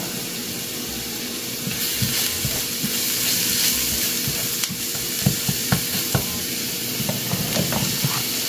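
Garlic frying in a pan while cooking corned beef spaghetti, a steady close sizzle with scattered pops and crackles and occasional stirring clinks.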